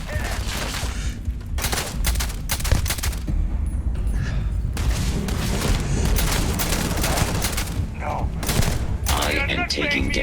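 Rapid gunfire from a weapon in the sci-fi video game Starfield, repeated bursts of loud close shots in quick succession over a dense battle din, with a voice talking briefly.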